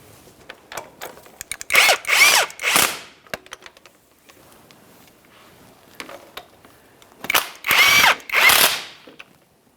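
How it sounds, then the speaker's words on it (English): Power tool running down 18mm mounting nuts on engine oil cooler lines of a 2015-2020 Cadillac Escalade, two bursts of whirring drill-like driving with ratchety clicks, each about a second and a half, separated by a quiet pause with small clinks. "Let's tighten our 18mm headed mounting nuts."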